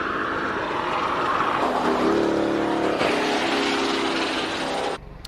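Road-going saloon or supercar racing up the Simola hill climb, a loud sustained engine roar passing close and cutting away sharply at the end.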